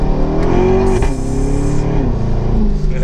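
A Corvette accelerates with a loud, steady engine roar heard from inside the car, its pitch climbing through the gears with a gearshift partway through.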